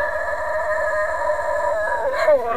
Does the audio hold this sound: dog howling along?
yes